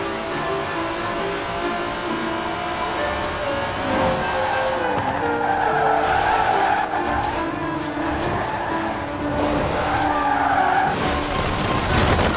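A 90-year-old racing car in Forza Horizon 4, its engine droning loudly and continuously while tires squeal and skid in long wavering screeches, close and sustained with no talk.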